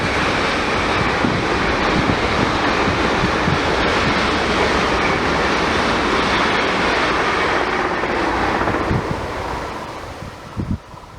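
A DB train passing close by on the track, a loud, continuous roaring rush with heavy wind buffeting that holds steady for about ten seconds, then eases off with a few thumps at the end.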